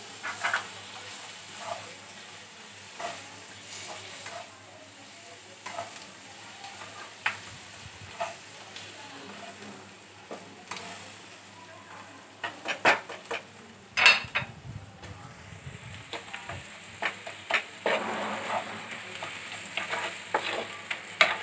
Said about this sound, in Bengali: আমি টমেটো কুচিটা দিয়ে দেবো